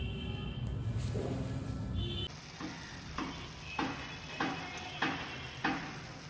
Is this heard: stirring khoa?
yes